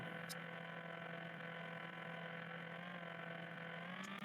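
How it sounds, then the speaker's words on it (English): Steady, whirring car engine in a racing video game, sounding like an electric car, a smooth held drone with a gently climbing pitch and no talking over it. "The volume revving is nice. Sounds like a electric car."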